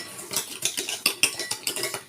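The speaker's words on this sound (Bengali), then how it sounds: "চিনি আর ডিমটাকে ভালো করে ফেটায় নিতে হবে।" Sugar and eggs whisked in a bowl for pancake batter, a brisk regular run of close metallic clinks and scrapes against the bowl, about five strokes a second, loud and with no talk.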